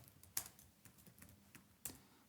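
A computer keyboard is typed on in a few quick, faint keystrokes, with two slightly heavier clacks among softer taps, heard close and alone.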